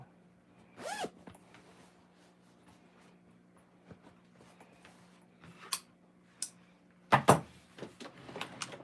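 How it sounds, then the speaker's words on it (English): A zipper tab is pulled along a small fabric zippered bag, giving several short raspy zips and clicks amid quiet handling rustles, close and fairly soft. "Let me pull that zipper just a little bit"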